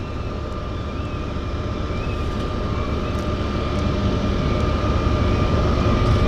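An aircraft approaching Vancouver Harbour's downtown airport: a steady, continuous engine drone that grows slightly louder over several seconds, with no talk.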